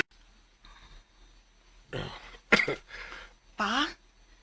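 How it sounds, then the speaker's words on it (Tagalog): Several harsh coughs and throat-clearing bursts come in short separate fits from a single nearby person, loud against a quiet room. "Na naman ang ubo ni mo, ay."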